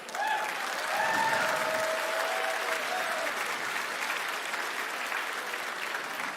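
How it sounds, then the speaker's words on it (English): An audience at a lobby forum event bursts into sustained clapping, a dense wash of applause that swells at first then holds steady, with a few faint voices calling out early on. "can you just start clapping?"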